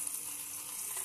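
Chapila fish lightly frying in hot oil, giving a steady close bright sizzle with no break or voices.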